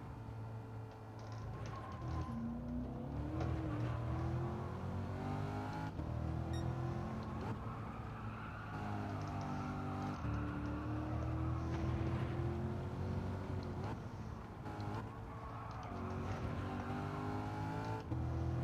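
Car engine in a racing game time trial, held in fourth gear, droning at moderate level with revs swelling and dipping through corners, no talking.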